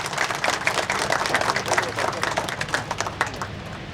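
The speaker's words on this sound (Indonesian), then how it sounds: "Kita tepuk tangan sekali lagi untuk Profesor Renal Kasali" Indoor audience at a formal gathering in Jakarta applauding Professor Renald Kasali, a dense sustained burst of many hands clapping, fairly loud and steady throughout, with some crowd murmur mixed in.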